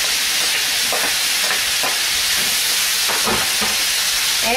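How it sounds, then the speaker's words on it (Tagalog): Carrots and vegetables for pancit bihon sautéing in a pan, a steady loud sizzle and hiss throughout with a few stirring scrapes, close up and no talking. "igisa lang natin ito for a few minutes"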